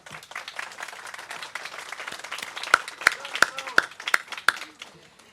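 A crowd applauds steadily, with a few sharp louder claps standing out near the end.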